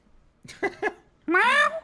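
A voice imitates a cat meowing during a casual gaming podcast, giving two short clipped syllables followed by one longer drawn-out meow, close and clear.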